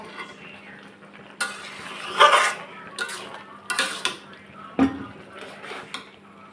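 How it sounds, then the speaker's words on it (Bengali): Malabar spinach with small shrimp cooks in a pot, heard as intermittent scraping and clanking of a utensil against the metal pot over a quiet, low sizzle, with a steady background hum. "সাদের শাক রান্না করতেছি চিংড়ি মাছ দিয়ে ঝোল করবো"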